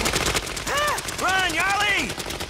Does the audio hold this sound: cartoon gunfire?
yes